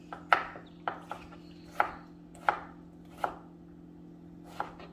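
Knife chopping tomatoes for pico de gallo on a cutting board: about seven sharp, separate chops at an uneven pace, each clear and close, with a steady low hum underneath.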